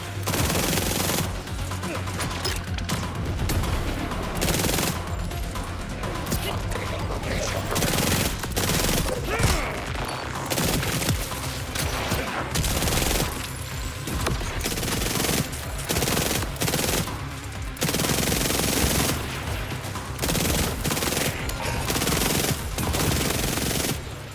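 Sustained rapid gunfire from a gun in Borderlands 4 on PC, loud continuous bursts and volleys with short gaps, running throughout.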